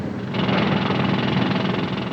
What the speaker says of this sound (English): Put down that drill.